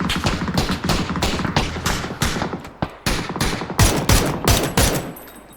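Gunfire in the battle royale game PUBG cracks in rapid bursts and single shots, loud and close, overlapping in quick succession for several seconds.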